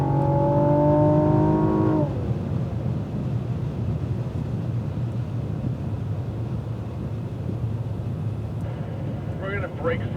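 Cadillac ATS-V at full throttle on a race track, its engine roaring loud and steady from start to finish, a rising tone sweep in the first two seconds, then a sustained heavy drone.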